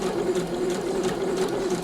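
A sewing machine stitching a hem runs in a steady, close whirring buzz with a constant motor tone throughout.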